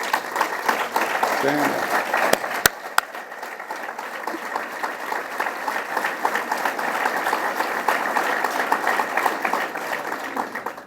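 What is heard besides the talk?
audience applause for elected officials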